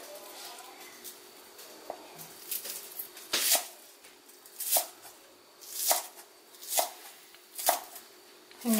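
A knife chops fried sausage and green onion on a cutting board in spaced, crisp strikes, about one per second and growing steadier, close and clear.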